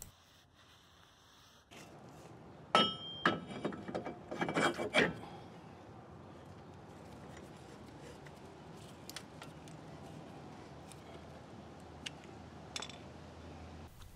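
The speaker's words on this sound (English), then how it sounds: "The rotors are coated in a thin layer of oil at the factory, which we'll need to remove with a brake cleaner and a rag before installation." A rag wipes factory oil and brake cleaner off a new brake rotor: a cluster of close, scratchy rubbing strokes early on, then quieter intermittent scuffs and light metallic touches over low background hiss.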